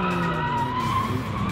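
Car tires skid and squeal continuously during a drift in the Capital Drift video game, with engine drone underneath. Steady and loud, with no talk.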